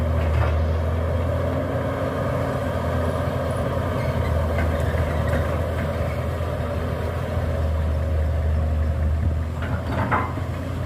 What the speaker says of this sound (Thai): ฮิตาชิตัวนี้เครื่องยนต์น่าจะใส่ของอีซูนะครับ